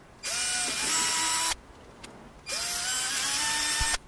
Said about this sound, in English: go ahead and drill in, and be very careful